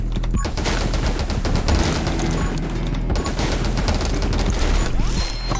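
Rapid video game gunfire in 20 Minutes Till Dawn, a dense, unbroken barrage of loud shots with booming impacts that continues without pause for over five seconds.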